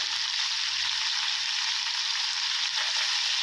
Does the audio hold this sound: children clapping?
no